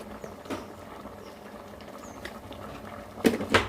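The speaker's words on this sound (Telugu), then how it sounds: "బాగా మరుగుతుంది కదండి" Dal with fenugreek leaves and a spoon of chili powder bubbling at a rolling boil in a pot, a soft continuous burble with a couple of sharper clinks near the end.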